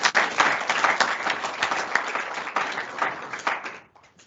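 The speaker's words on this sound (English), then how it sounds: "I'd like to give yourselves a round of applause" An audience gives a round of applause at a resort meeting, dense sustained clapping from many hands filling the room before tapering off quickly near the end.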